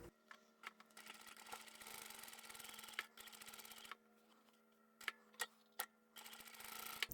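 Home sewing machine stitching along the folded edge of fabric backed with stabilizer, a steady close mechanical whir in runs broken by short pauses and a few sharp clicks, with no talk.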